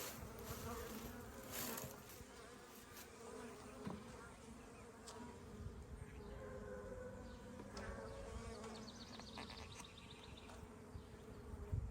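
Honeybees swarming around nucs being installed into a hive, a continuous close buzzing drone from many insects with faint background sounds throughout.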